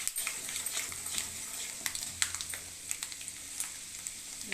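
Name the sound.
tempering spices spluttering in hot oil for bisi bele bath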